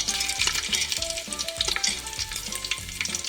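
Whole cinnamon, cardamom, star anise and fennel fry in hot ghee, a close, continuous, crackling sizzle with stirring and scraping in the pan and no voices.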